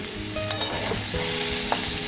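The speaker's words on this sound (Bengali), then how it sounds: "রান্নাটা সর্ষের তেলেই হচ্ছে" Raw jackfruit for kalia frying in mustard oil with turmeric, giving a close, continuous sizzle with a few brief scraping stirs over it.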